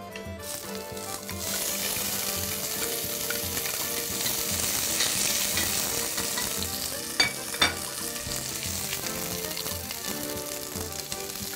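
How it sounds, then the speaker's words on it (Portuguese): Onion and bean sprouts sauté in a pan, a loud steady sizzle with stirring scrapes and a couple of sharp clinks near the end. "Fazer um refogadozinho aqui com broto."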